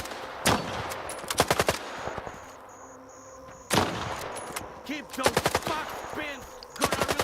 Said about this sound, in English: What are they shooting at, man?